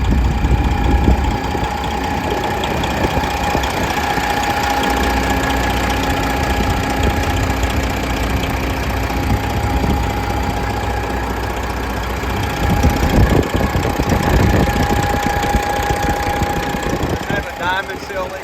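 A pre-emission 12.7-liter Detroit diesel idles in a Kenworth W900L glider truck with a 13-speed and 390,000 original miles, a steady close rumble with a faint knocking texture and a thin whine running through it, and occasional bursts of louder clatter near the end.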